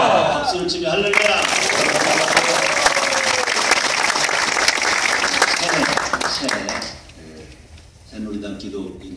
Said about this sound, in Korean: 박수를 치며 할렐루야.